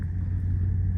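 Steady low rumble of a Ford Mustang GT V8 engine during a drive, a continuous droning hum that holds even throughout with no talking.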